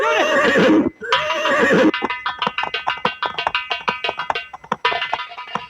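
A horse neighs loudly in a long whinny, then neighs again, followed by a run of rhythmic hoof clops close by, with the horse made ready for a king's hunt in a staged folk musical drama.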